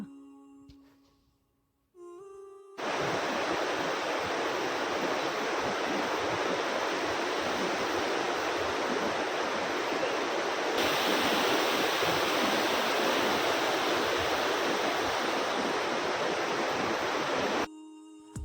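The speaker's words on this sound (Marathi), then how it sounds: "खळखळ आवाज करत वाहणाऱ्या नद्या" A mountain river near Pahalgam, Kashmir, rushes along in a loud, steady broadband roar that holds unbroken for about fifteen seconds after a brief quieter opening, with no voices.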